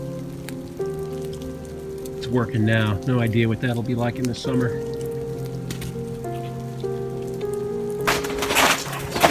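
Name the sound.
rain on a trail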